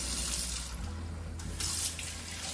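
Tap water runs steadily into a sink while hands are washed under it, close and continuous with a slight change in flow partway through.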